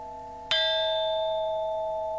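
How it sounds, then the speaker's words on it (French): A single bell at a Zen Buddhist monastery is struck once to announce the meal, a sharp metallic strike followed by a long, clear ringing tone that decays slowly in quiet surroundings. "la cloche annonce le repas"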